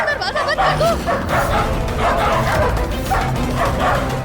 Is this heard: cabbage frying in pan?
no